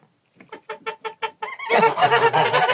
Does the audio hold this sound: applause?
no